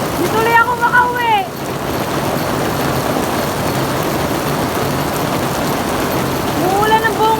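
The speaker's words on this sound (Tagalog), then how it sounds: "tignan niyo po ang ulan. May kasamang yelo." Hailstones falling with heavy rain in Japan on a June afternoon in 2023, a dense, steady patter and hiss with a voice speaking briefly at the start and again at the end.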